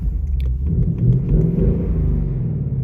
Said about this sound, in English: So start the engine